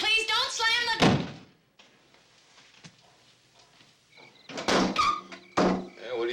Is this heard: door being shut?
yes